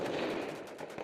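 A brief burst of combat gunfire in Afghanistan: a fast, rattling volley of shots over roughly a second, moderately distant and fairly faint, with no talk.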